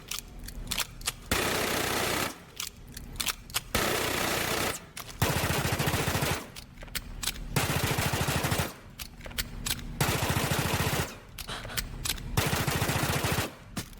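Automatic rifle fire from a Bandit operator with an ACOG sight in Rainbow Six Siege, heard in about six loud, sharp rapid-fire bursts, each lasting one to two seconds and separated by short pauses.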